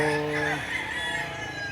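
A rooster crows loudly and close by at a chicken auction market in Lipa, Batangas, its harmonic call fading after half a second into a background of clucking fowl and general market noise.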